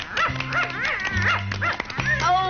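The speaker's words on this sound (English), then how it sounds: "That dog." A dog barks repeatedly in short yapping bursts, close and loud, over a background of music.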